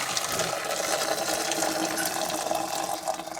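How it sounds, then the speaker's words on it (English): Freshly boiled water poured from a kettle onto potatoes in a pan at home: a continuous, close splashing and gurgling pour that holds steady throughout, with no voices. "I've boiled some water and I'm going to put that on"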